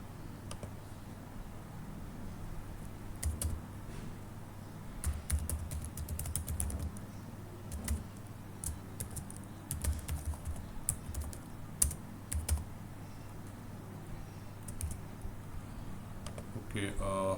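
Test email being typed on a computer keyboard, with scattered soft key clicks in short irregular bursts over a steady low hum of room noise.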